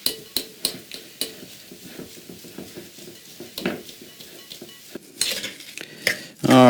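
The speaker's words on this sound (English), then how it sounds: "I go ahead and mash them with a fork" Black beans, drained, mashed with a fork in a bowl: a steady run of clinking, scraping taps of metal against dish, roughly two per second and close up, growing into louder clatter near the end, with no talking.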